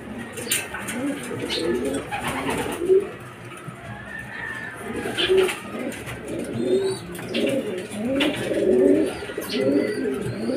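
Racing pigeons coo repeatedly in soft, throaty rolls at a loft, several birds overlapping at close range with faint chirps and background rustle.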